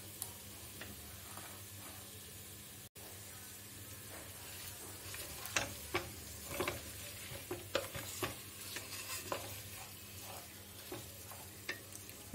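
Fried onions sizzling in a pan of mutton yakhni pulao as they are stirred in, a steady frying hiss with repeated scraping and ticking stirs, close and moderately loud, with no talk.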